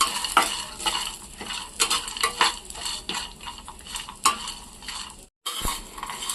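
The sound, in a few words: frying coconut in a pan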